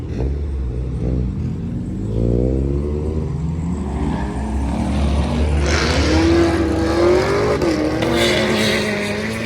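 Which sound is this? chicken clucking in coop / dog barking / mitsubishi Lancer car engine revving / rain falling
mitsubishi Lancer car engine revving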